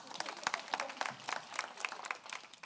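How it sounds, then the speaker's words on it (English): Scattered clapping from a small conference audience for speech and language therapists, individual claps distinct and uneven rather than a full ovation, fairly faint in a hall. "big clap for the speech and language therapists."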